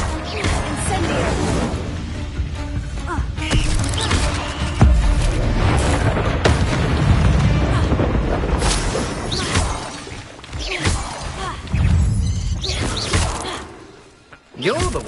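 Incendio fire spells cast in a video game: repeated whooshing bursts, thuds and crashing impacts, loud and busy across the whole stretch, mixed with shouted voices.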